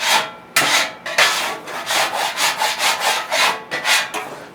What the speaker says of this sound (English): Get your old scraper. I like this little handheld one here.